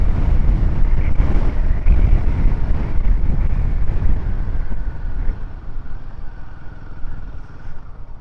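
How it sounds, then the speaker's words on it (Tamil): Strong headwind buffets the microphone of a rider on a Royal Enfield Himalayan along a mountain road from Theni to Poombarai, heavy rumbling gusts easing slightly toward the end over a low engine drone. "காற்று நல்லா அடிச்சுக்கிட்டு இருக்கு."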